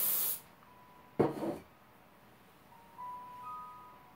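Two short hissing bursts of hairspray from an aerosol can, close up, separated by a brief pause and followed by quiet.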